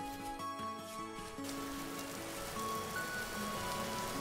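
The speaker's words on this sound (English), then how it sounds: "Oh, it's raining." Rain falls in the Vintage Story survival game as a soft, steady patter on surfaces, moderately faint and continuous beneath tonal background game music.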